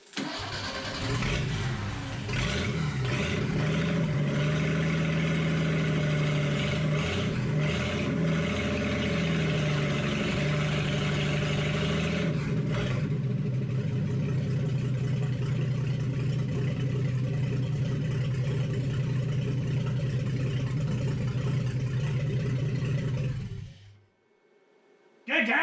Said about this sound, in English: The first time we had ever heard this engine run, and it ran good.